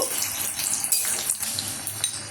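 Spices with bay leaf sizzle steadily in hot oil in a pan, a close, continuous crackling hiss with small pops and no voices.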